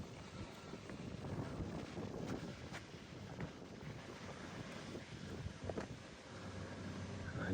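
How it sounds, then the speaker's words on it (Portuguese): Wind blows steadily across an open field on a coffee farm, a continuous rushing buffet on the microphone with occasional gusts and crackles, rather faint overall. "E ainda tem um vento, ó, que dá uma tocada,"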